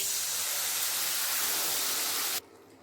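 Tomato frying in a pan for Bengali patol chingri curry gives a steady, loud broadband sizzle that holds evenly for over two seconds, then cuts off abruptly to near quiet.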